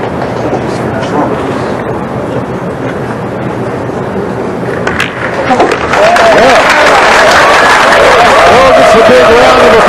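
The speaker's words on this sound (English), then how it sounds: "A big round of applause as he puts his second 9-ball in." Crowd applause at the 2007 World 9-ball Pool Championship after a 9-ball is potted, starting as murmuring and building into loud, sustained clapping and cheering that fills the hall.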